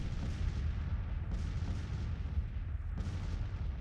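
Artillery fire in the video game Grand Tactician: The Civil War, a dense, continuous rumble of cannon booms with a couple of sharper reports standing out, loud and steady throughout.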